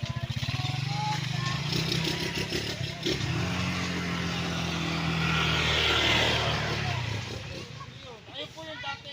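A motorcycle or tricycle engine hums and revs on a rural farm lot road in Calauan, Laguna, rising loud as it passes nearby and then fading, with people talking over it.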